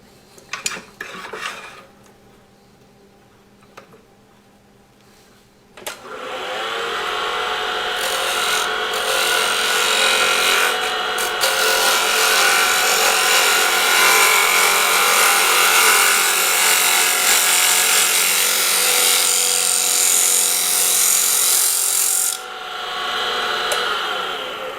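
A tiny 1/4 inch bowl gouge cuts wood on a lathe against end grain: after a quiet start, a loud, steady rasping shave runs continuously for most of the stretch, close up and without talk.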